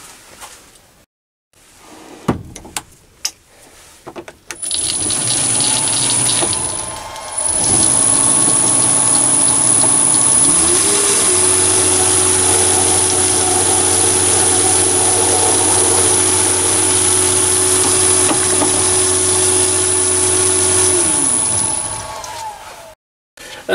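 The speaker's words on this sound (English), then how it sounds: "And now I can center and drill through for the wick." A lathe drills through a brass door knob to make the wick hole of an oil lamp, a steady loud machine drone and high whine holding for about twenty seconds after a few knocks and clicks.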